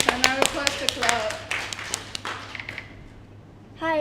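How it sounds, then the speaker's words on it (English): A small audience gives a brief scattered round of clapping at a privacy talk during a 10 Years of Ethereum event, individual claps distinct and fading out, followed by a voice speaking. "And I request the clap."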